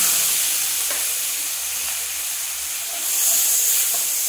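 Onion, garlic and ginger paste hitting hot oil with browned whole cumin, a loud, bright steady sizzle and hiss that swells again as the paste is stirred.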